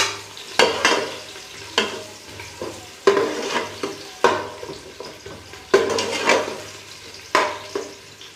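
A medium chopped onion frying in a spoonful of ghee and oil, steady close sizzling with repeated scraping stirs of a spoon against the pan, no talk.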